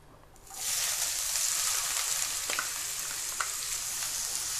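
Bay leaf and onions dropped into hot leftover oil in a kadhai burst into a loud, sudden sizzle that holds steady and bright, with a few faint clinks of stirring and no talk.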